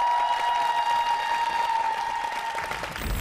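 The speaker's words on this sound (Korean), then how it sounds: "큰 박수 부탁드립니다." Studio audience applause at a televised Korea-versus-Japan magic competition, a steady dense clapping that holds for about three seconds before thinning slightly, with a sustained tone ringing underneath.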